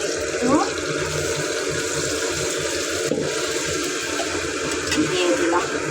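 Broth is poured into a pan of fried rohu fish curry, a continuous splashing liquid pour with sizzle, heard close and fairly quiet with background kitchen noise.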